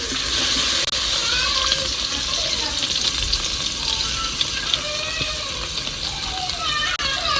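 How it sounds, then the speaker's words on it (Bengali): Meat sizzling and frying in a pan with spice paste, a steady crackling hiss that runs throughout with occasional stirring scrapes, loud and close. "মাংসটা ভেজে নিচ্ছি আমি।"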